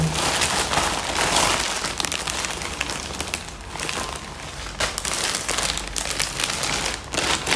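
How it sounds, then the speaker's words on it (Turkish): A plastic bag is torn open and handled, giving dense, close crinkling and rustling that runs nearly continuously, loudest early on, with brief pauses. "Bir yandan poşeti açtım da."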